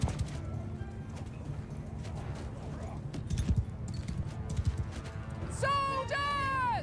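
Horses moving in a Mount & Blade II Bannerlord battle, their hooves clip-clopping steadily under a low, busy rumble, with a brief tonal call rising near the end.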